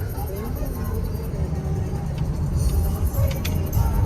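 Steady low rumble of a car driving along a road, engine and road noise constant throughout, with a person talking over it.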